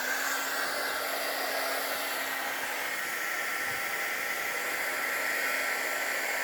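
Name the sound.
embossing heat tool blowing hot air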